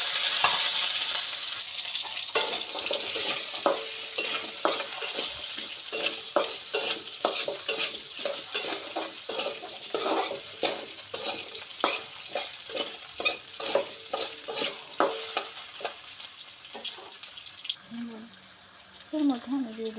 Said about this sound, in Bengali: তুলে নিয়ে এই তেলের মধ্যে আমি দিয়ে দেবো আলু